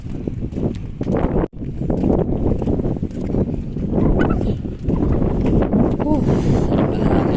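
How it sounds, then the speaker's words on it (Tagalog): A strong headwind from the sea buffets the microphone along a coastal road, roaring steadily and loudly in gusts while a person talks over it. "Harap na hangin."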